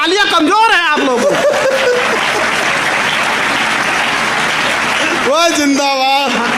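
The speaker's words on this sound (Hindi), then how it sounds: "तालियां कमजोर है आप लोगों।" Audience applause at a Hindi comedy show, a broad wash of clapping filling the middle of the clip, with a voice speaking before and after it.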